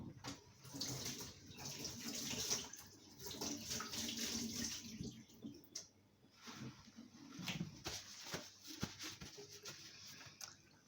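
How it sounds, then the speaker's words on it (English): Running kitchen tap water splashes over hands being washed before seasoning belly pork, a fairly quiet, uneven flow that patters and surges for several seconds with no talk. "I'm just going to wash my hands."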